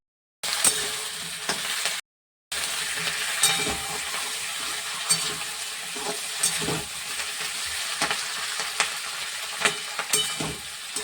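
Poppy seed paste hitting hot oil in a frying pan for a fish and onion-stalk curry, a steady loud sizzle with occasional stirring scrapes, close-up, briefly cut to silence early on, no talking.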